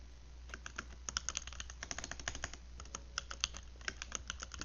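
Fast, irregular clatter of keys on a computer keyboard while coding an operating system, close and steady for the whole stretch with quick clusters of strokes and no voice over it.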